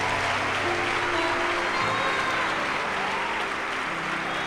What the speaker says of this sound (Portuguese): Se é para Jesus essas palmas